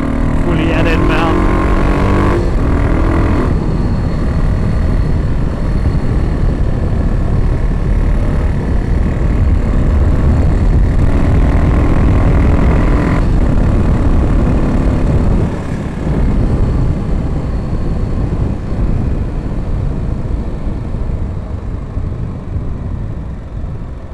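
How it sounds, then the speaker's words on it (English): Car engine braking: a loud, close engine roar with a humming tone that fades early, then a rough, steady drone that eases off toward the end, with some talk. "Engine braking is so bloody handy."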